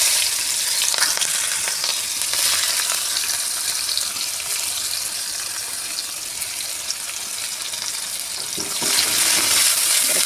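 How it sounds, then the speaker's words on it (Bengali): Chopped onions with whole cumin frying in oil left from frying katla fish, a continuous loud sizzle with occasional stirring scrapes, swelling slightly near the end. "এবার দিয়ে দেবো পেঁয়াজ কুচি,"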